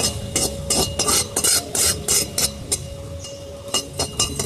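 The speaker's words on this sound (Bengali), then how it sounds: "তেল ছাড়া ভেজে নিচ্ছি।" Raw banana peel dry-fries in a pan without oil, heard as rhythmic scraping and rasping strokes of a utensil against the pan, close and fairly quiet, repeating steadily without talk.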